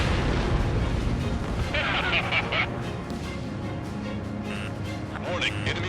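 In Ace Combat 7, a jet fires a missile amid continuous loud rumbling and booming explosions. Radio voices and warning tones run over the dense roar throughout.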